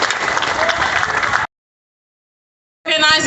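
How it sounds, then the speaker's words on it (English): Audience applause at a rally fills the first second and a half, dense and steady, then cuts to silence before a second loud burst of clapping and cheering returns near the end. "All my people, give yourselves a round of applause for being here today"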